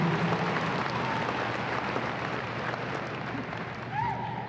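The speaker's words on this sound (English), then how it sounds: "Let's give a round of applause for 50 years of higher education in West Oahu" Applause at a UH West Oahu commencement ceremony marking 50 years of higher education, a sustained, moderately loud wash of clapping with a faint voice coming through near the end.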